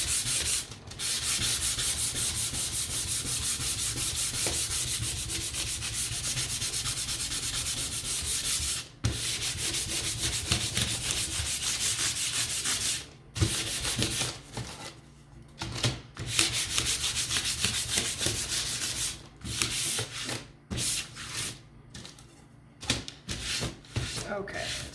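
Hand sanding on a wooden sign: steady, continuous abrasive rubbing strokes run close and loud for most of the stretch, broken by a few short pauses and turning choppier near the end.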